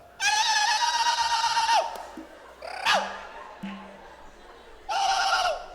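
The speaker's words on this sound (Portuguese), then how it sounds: "O que é ulular? As mulheres fazem um barulho com a língua." Women ululating during dancing at a missions gathering, shrill high tongue trills in two long bursts with shorter wavering cries between, fairly close over a quiet background.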